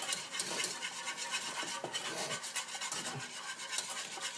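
A whisk scrapes and rubs through Gujarati kadhi soup in a quick, steady rhythm of close, soft scratchy strokes, with nothing else heard.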